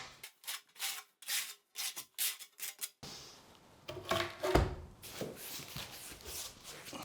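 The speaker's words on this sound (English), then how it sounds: "take the back side of your trowel and back butter" Back of a trowel spreading thinset onto the back of a large tile, a run of short rhythmic scraping strokes up close, followed by a rougher, denser smearing passage.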